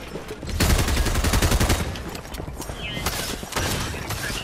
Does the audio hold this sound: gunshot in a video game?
yes